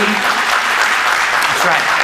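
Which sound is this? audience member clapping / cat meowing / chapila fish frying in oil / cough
audience member clapping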